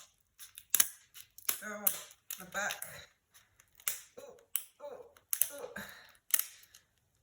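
Several crisp snipping crunches of kitchen scissors cutting through lobster shell, coming in short bursts between a man's speech.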